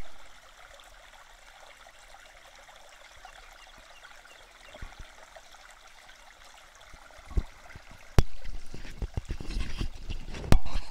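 Creek water flows through the woods as a steady broadband rush, with louder splashes and knocks joining in the last few seconds, and no one talking.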